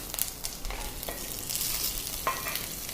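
Mustard seeds crackle in hot oil: sharp scattered crackles and pops over a steady sizzle, close by, with a few louder bursts standing out.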